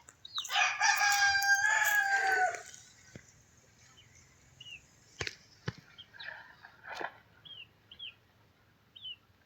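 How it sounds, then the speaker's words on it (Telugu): A peacock gives one loud, drawn-out wailing call, then scattered faint clicks and small bird chirps follow in a quieter background. "మన నేషనల్ జంతువు నెమలి"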